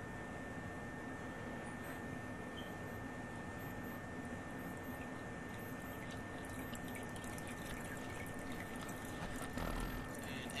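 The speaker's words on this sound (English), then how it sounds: "As the water goes down, you can see that there's water coming in from the small holes from the side." Water trickles and drains down a basement sump pit, with seepage entering through small side holes; a faint, steady close-up gurgle and drip with no talk.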